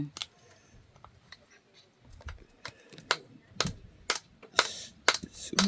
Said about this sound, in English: Mother cut up a fish here.